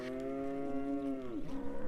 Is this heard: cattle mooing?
yes